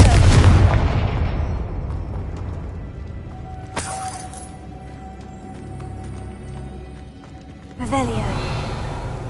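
A Confringo blasting spell fired in the video game Hogwarts Legacy, heard as a sudden sharp blast at about four seconds and another near the end, over a rumbling game soundtrack with no one speaking.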